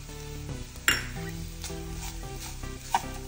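Jaggery and sugar stirred in a pan while cooking filling for ukadiche modak: a soft sizzle with scraping strokes of a spoon and two sharper clinks against the metal, close and fairly quiet, with no talk.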